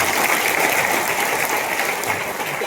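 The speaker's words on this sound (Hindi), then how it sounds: "तालियां बजा दीजिए।" An audience breaks into continuous clapping at a Hindi-language gathering, a thick, even wash of many hands that holds steady and eases slightly toward the end, with no talking over it.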